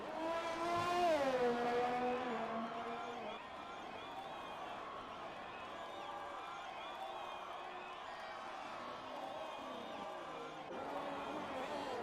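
An F1 2020 race car sets off on a lap at a Vietnam circuit, its engine whining high as it accelerates through the gears and then settling into a steady, fainter hum, with a commentator talking over it.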